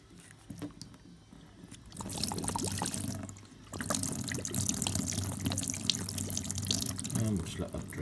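Motor fluid drains from a 1987 Honda CBR600F motorcycle into an oil pan, a steady close liquid trickle and splash that runs continuously.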